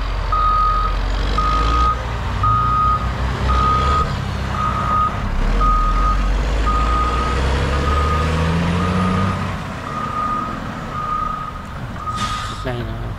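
A snow plow truck clears a snowy road in Canada, its reversing alarm beeping steadily about a dozen times at an even pace over a low diesel rumble. Someone talks over it.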